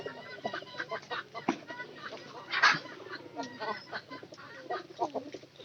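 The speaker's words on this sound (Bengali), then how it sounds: "মুরগিগুলা একটু অন্য টাইপের।" Chickens in a poultry house cluck and call almost continuously, a busy overlapping chorus of short clucks with a few louder squawks, close by and with no one speaking.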